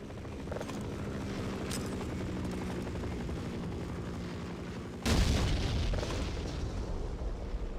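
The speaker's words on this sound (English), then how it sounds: "Gonna need something a bit bigger to deal with this chopper." A helicopter in the Half-Life video game, its continuous rotor roar droning before a sudden heavy blast hits and the noise grows louder and harsher to the end.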